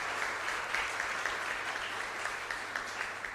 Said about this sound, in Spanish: Un fuerte aplauso para el Padre Edgar